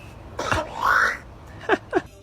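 A talking myna bird imitates a human cough, giving a few short, raspy, throat-clearing bursts up close and separated by brief pauses.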